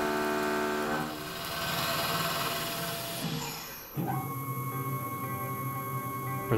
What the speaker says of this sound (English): we are cutting 304L stainless steel